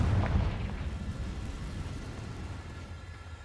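Confringo fire spell blast in Hogwarts Legacy, one loud deep booming explosion at the start that rumbles and slowly fades over a few seconds.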